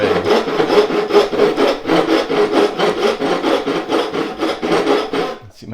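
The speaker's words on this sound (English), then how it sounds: "Cutting on the end grain with a dovetail saw" A dovetail hand saw cuts the end grain of wood clamped in a vise, making loud, close, rhythmic rasping strokes at an even back-and-forth pace that stop at the end.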